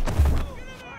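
A missile launcher fires in the Spider-Man Miles Morales video game: a single short booming blast with a thud at the start, then fading into a ringing electronic tail.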